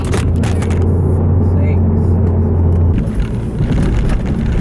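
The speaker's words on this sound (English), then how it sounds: "now driving the Audi" Inside a moving Audi car: a steady low engine and road rumble fills the cabin, loud and continuous throughout.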